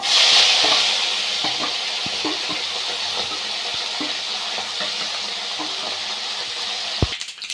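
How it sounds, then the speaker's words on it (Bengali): Mourola fish fry in mustard oil in a kadai with a continuous close sizzle, broken by light scraping and stirring clicks and a sharp clack of utensil on pan near the end. "মাছগুলো আমি একইভাবে ভেজে নেব।"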